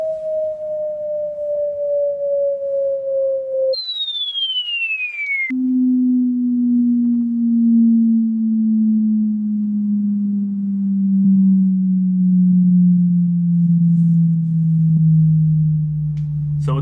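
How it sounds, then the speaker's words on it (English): Descending sine tone sweep from a bass test of AIWA Exos-9 and Harman Kardon Aura Studio speakers, briefly jumping high before gliding steadily down into very low bass, loud and continuous with a faint rumble of vibration beneath. "So it's starting to get into the very low tone soon."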